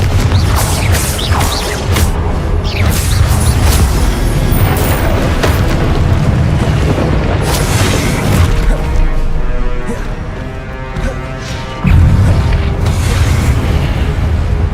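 Confringo blasting spells exploding in Hogwarts Legacy during a duel, loud booming blasts and crashes layered densely over a constant roar, with a fresh heavy impact near the end.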